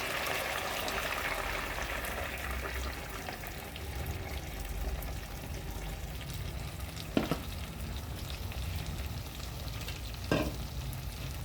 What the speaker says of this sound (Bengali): মাছের হয়ে গেছে, দু পিঠ আমার হালকা হালকা করে ভাজা হয়ে গেছে